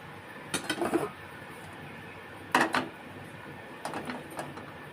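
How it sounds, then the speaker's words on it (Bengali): A metal wok is set back down on a home stove with a few sharp clanks and scrapes, spaced over a few seconds, close by and otherwise quiet. "কড়াইটা আবার বসিয়ে দেব"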